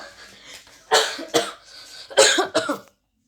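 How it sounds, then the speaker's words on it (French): A person coughs indoors in a short run of about four harsh, separate bursts close to the microphone, with a brief pause between the first two and a quicker pair at the end, followed by silence. "Je suis en train de tousser"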